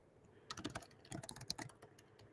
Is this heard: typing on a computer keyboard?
yes